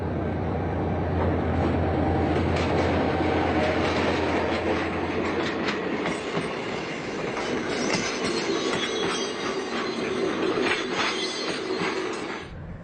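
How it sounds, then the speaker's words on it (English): A train rolls along steadily, wheels rumbling and clattering on the rails with a loud, continuous roar and occasional metallic squeals. "this train shows no sign of stopping or even slowing"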